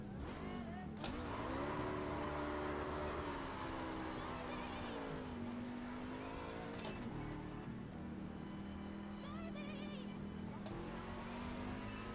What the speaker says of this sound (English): let's do a burnout in the pits here